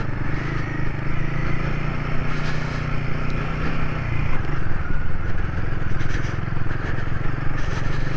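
Royal Enfield Himalayan motorcycle riding off-road over gravel, its engine a steady close rumble throughout with crunching, clattering gravel and wind noise underneath.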